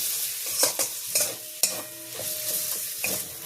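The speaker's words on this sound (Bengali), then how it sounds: "নামানোর আগে আমি একটু গরম মশলা এর মধ্যে দিয়ে দিলাম দিয়ে নাড়াচাড়া করে আমি গ্যাসটা অফ করে দেবো" Garam masala being stirred into a potato stuffing in a pan, with irregular scraping and clacking strokes of a spoon over a soft background sizzle, close by.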